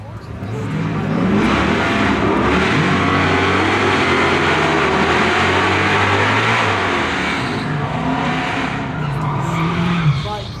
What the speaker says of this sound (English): Got a couple nitrous Hellcats going at it.